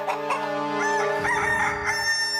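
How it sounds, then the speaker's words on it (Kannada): Rooster crows in a cartoon, one long, loud cock-a-doodle-doo with a strong harmonic, sung quality, heard on its own with no talking. "ಇರುವೆಗಳ ಪ್ರಪಂಚದಲ್ಲೂ ಕೋಳಿ ಕೂಗ್ತಾ ಇದೆಯಲ್ಲೋ"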